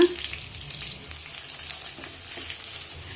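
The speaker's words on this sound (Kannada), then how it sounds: "ಈಗ 4 ಈರುಳ್ಳಿ ಕಟ್ ಮಾಡ್ಕೊಂಡಿದ್ದೀನಿ, ಅದು ಹಾಕ್ಕೊಳ್ಳೋಣ." Four chopped onions frying in oil left over from frying paneer, a steady close sizzle with light stirring scrapes and no speech.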